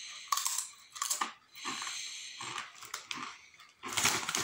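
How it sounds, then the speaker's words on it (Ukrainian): Lay's ridged chips with sausage and mustard flavour are chewed slowly and up close, giving several bursts of crisp crunching separated by short pauses. "Тому жую повільно."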